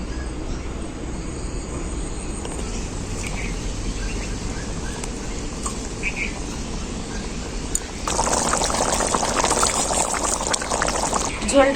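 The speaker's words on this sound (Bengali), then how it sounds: "খুব ভালোভাবে ফুটে গেছে" A pot of egg curry gravy bubbles on the stove with a soft, steady simmer that turns into a louder, denser rolling boil partway through, with no one talking.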